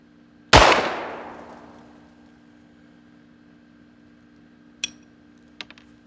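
A single sharp, loud report from a Beretta U22 Neos .22 pistol that rings off and decays over about a second, followed later by two small metallic clicks and clinks, with no voices.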